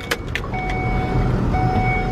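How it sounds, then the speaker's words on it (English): An ambulance truck engine starts and settles into a steady idle hum on an EMS call, with a couple of brief clicks at the start and a faint steady electronic tone running through. "Let's turn on the car or the truck."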